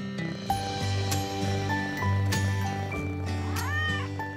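A pet cat meows several times in short, clear calls, with a longer caterwauling yowl near the end. The voice is close and distinct, and a faint jingle sounds in the background.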